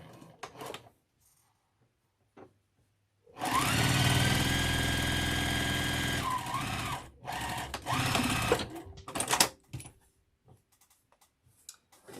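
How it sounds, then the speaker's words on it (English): A sewing machine runs in one steady burst of about three and a half seconds, stitching down the side of a Churn Dash quilt block. Quieter clicks and handling noises come before and after the burst. "Put it on there and stitch down that side"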